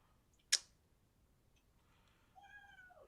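A cat meows softly nearby in a quiet room, a single drawn-out call near the end after a sharp click.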